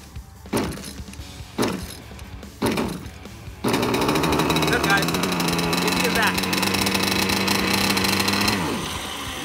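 A Zenoah gas engine on a Pro Boat Zelos 48G RC boat, just cleared of hydro lock, gives three short pull-start bursts and then roars into a loud, steady run that eases off near the end.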